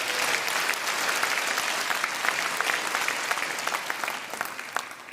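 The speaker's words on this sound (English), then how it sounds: "Round of applause for our residents." A crowd of local residents at a Reform UK campaign rally in Norfolk breaks into loud, sustained applause, dense clapping with sharp individual claps standing out as it slowly thins toward the end.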